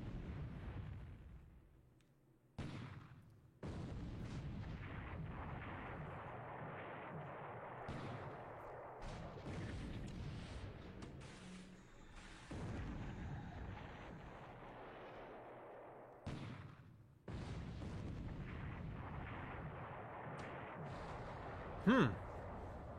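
Heavy 8-inch naval guns firing in a warship video game, deep booming blasts and rumbling explosions recurring at irregular intervals over a dense low battle roar, fairly faint overall.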